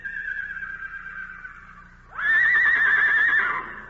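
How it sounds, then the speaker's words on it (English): A wild red stallion neighs loudly and close, a long whinny that rises sharply partway through and holds, with no voices over it. "Hey, it's a wild stallion."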